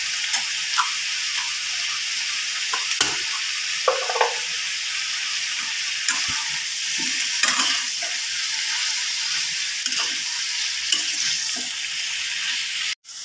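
Cauliflower stems with spices and Kashmiri chili powder fry and sizzle in a pan, a constant loud hiss broken by repeated scraping stirs of a spatula, close up with no voices.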